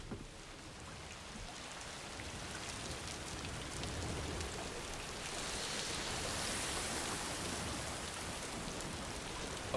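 Steady rainfall of timefall in the video game Death Stranding 2, a dense, continuous hiss of rain on surfaces that swells slightly in the second half, alone with no voices.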